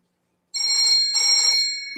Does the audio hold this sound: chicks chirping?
no